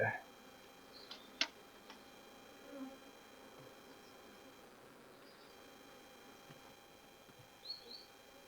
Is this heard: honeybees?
yes